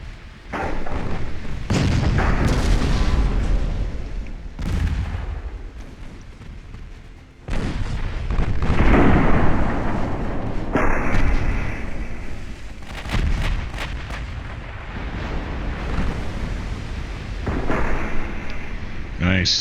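Naval artillery fire against a battleship in the warship game Ultimate Admiral: Dreadnoughts: heavy booming salvos and long rumbling blasts repeating over several seconds, loud and close, with a voice speaking in between.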